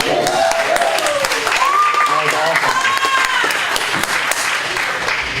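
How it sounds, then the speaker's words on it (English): Applause and cheering from the crowd at a poetry slam, dense and sustained throughout, with voices calling out over the clapping. "can we get a round of applause for Son the One again really quick?"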